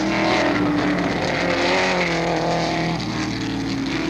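Porsche 917 race cars roar loudly and continuously through the 1970 Sebring Twelve Hours endurance race, engines droning close by with a hint of tire squeal.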